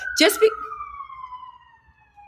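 An ambulance siren sound effect: after a brief burst of voice, a single wailing tone slides slowly downward and fades away, ending with a faint click.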